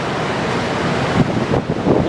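Ocean floodwater surges down a flooded street in Manhattan during Hurricane Sandy, a steady, loud rushing wash with wind buffeting the microphone and slight swells in intensity throughout.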